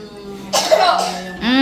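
A close, harsh cough in a home kitchen during cooking, with a rough double burst of breath and a short voiced sound right after.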